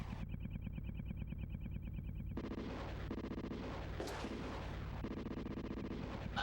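Rapid bursts of tank cannon and machine-gun fire from the video game Super Battletank 2, a steady stream of loud, repeated shots with booming impacts continuing throughout.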